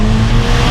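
Ferrari Portofino engine revving hard, a loud, close, steady roar with a strong low rumble that holds for under a second with no break.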